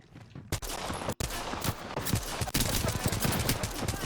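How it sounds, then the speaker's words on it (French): Rapid bursts of gunfire in the video game Apex Legends, loud and dense with crackling shots continuing over several seconds and a brief pause near the start. "Ok, là ça tire."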